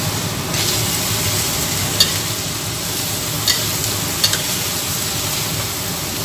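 Celery stalks stir-fry with oyster sauce and seasonings in a pan, a steady close sizzle with a few faint clinks of the spatula, and no talking.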